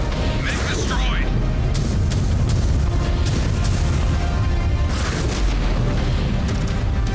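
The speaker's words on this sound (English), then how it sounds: "Mech destroyed." A mech blows up during combat in MechWarrior 5: Clans, a deep booming explosion with low rumble that persists through the clip, layered with other battle noise and voices talking over it.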